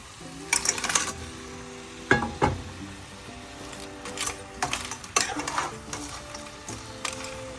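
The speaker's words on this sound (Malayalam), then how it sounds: "ഞണ്ട് ചേർത്ത് നല്ലതുപോലെ ഇളക്കി" Crab pieces being stirred into a roast masala in a pan, with scraping spoon strokes over a steady low sizzle of frying, several distinct stirs spread across the clip.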